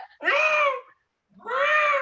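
A cartoon cat gives two clear, drawn-out meows separated by a short silence, each loud and close with a bright, tonal whine.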